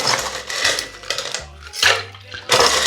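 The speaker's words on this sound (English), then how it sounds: "Finally, a scoop of crushed ice is added to chill everything down and create that frozen texture." A scoop of crushed ice tumbles into a piña colada at a cocktail bar, giving several sharp clattering, rattling bursts over a low steady hum, with short pauses between them.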